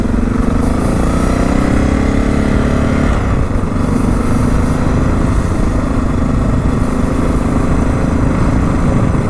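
A modified Suzuki DR650 motorcycle engine idles after starting, a loud, close, continuous rumble with a steady low drone whose pitch shifts slightly and wavers a little, and no talking over it.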